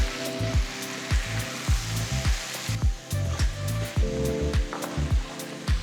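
Chopped medium tomatoes go into a pan of chicken and onions for Guntur chicken masala. A steady, fairly loud hiss and crackle of frying runs under regular low thuds of a spoon against the pan.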